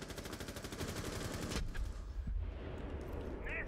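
Rapid automatic gunfire in Rainbow Six Siege, a fast steady burst lasting about a second and a half that stops abruptly, followed by a few scattered thuds and quieter game sounds.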